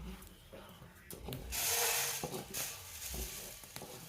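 Roasted wheat poured from a pan into a container, a rushing granular hiss that swells in the middle and then tapers, with clinks and scrapes of the pan around it, close and fairly quiet.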